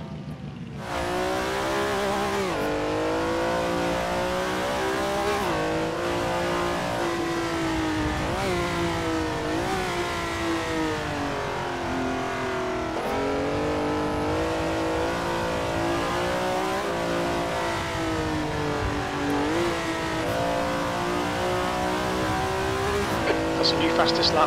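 A vintage Ferrari race car on the 1967 Silverstone circuit in a sim racing game roars continuously at high revs, its engine note rising and dropping through gear changes, loud and close throughout.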